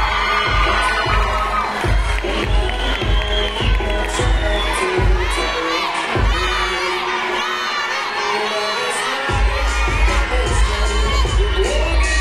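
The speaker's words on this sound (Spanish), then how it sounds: "Recibamos con un gran aplauso a Yaretsi Rodríguez" A crowd cheers and whoops over loud, pounding music as a contestant walks the runway at a fiestas patrias queen pageant in Guadalupe y Calvo. The sound is continuous and dense, with excited shouts rising above a steady beat.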